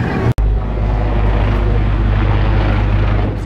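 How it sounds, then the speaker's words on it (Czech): A steady, loud engine rumble with rushing water and wind noise from a New York Water Taxi boat running nearby in New York, after a brief cut near the start. "New York Water Taxi."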